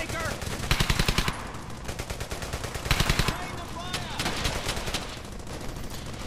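Dense machine-gun bursts and rapid rifle fire crackle through a World War II firefight in the video game Brothers In Arms: Hell's Highway, loud and continuous, with bursts clustering around intense peaks over a steady battle din.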